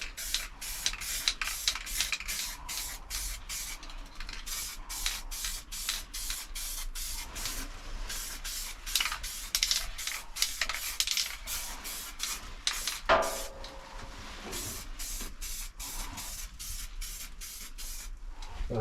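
Short repeated bursts of a spray gun hissing as paint goes onto the edges of a Rover Streetwise car panel at home, a quick regular rhythm of sprays with brief gaps, close and fairly quiet.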